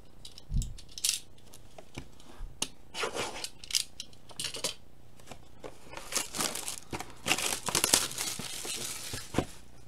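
Trading card packs are opened by hand, producing close, intermittent bursts of wrapper crinkling, tearing and rustling with soft handling taps, growing busier toward the end.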